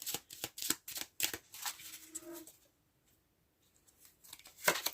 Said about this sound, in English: I'm just going to go ahead and finish shuffling this particular deck of cards